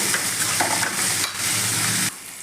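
Sliced onions and curry leaves fry in a pan with a loud, continuous sizzle, broken by a few stirring scrapes close up.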